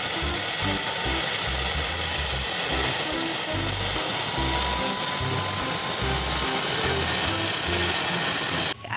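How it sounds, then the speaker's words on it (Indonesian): A steady, loud whirring hum with a high whine and a rhythmic low thrum, like a small toy helicopter rotor spinning continuously. "Ada helikopter, jalannya muter-muter."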